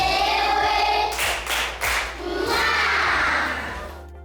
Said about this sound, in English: You can create a clapping pattern and your students should repeat it back.